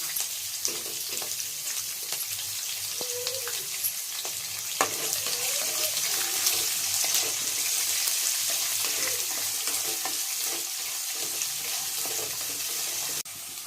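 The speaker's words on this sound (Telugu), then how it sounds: "పచ్చిమిరపకాయలు వేగిన తర్వాత ఉల్లిపాయలు వేసుకోండి." Onions and green chillies fry in a pan for brinjal rice, a loud, steady sizzle with occasional light stirring taps that runs for the whole stretch.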